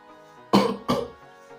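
Two sharp, loud coughs in quick succession, close up, with quiet room tone before and after.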